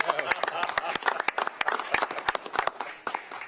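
A small group claps for a few seconds at a commissioners' meeting, giving brief, uneven, moderately close applause with voices mixed in.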